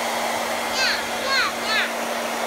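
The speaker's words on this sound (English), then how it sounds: "Yes, I'm blow drying a chicken." A hair dryer running on its coolest setting to dry a chicken gives off a steady, close whooshing blow with a faint electric hum, while several short high bird-like chirps sound over it.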